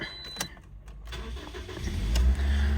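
The engine of a Toyota RAV4 with a misfire fault runs close by. Sharp clicks give way to a rough, uneven mid-pitched rumble that grows louder toward the end.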